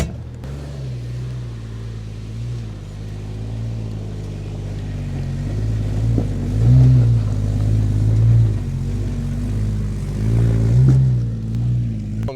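Jeep engine idling and revving on a Black Mountain trail, a steady low rumble that swells louder around the middle and again near the end, heard up close with no talking.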